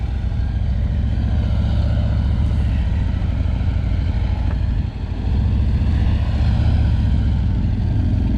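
Two police motor officers ride their motorcycles together through an offset cone weave, staying close; a steady, loud engine drone continues throughout with only a brief dip midway.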